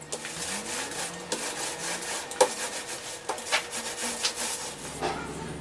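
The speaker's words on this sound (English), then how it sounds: "Then I followed it up with the roller." Paint roller working paint onto wooden trim of an overhead garage storage rack, a steady close rubbing swish with repeated strokes, no talking.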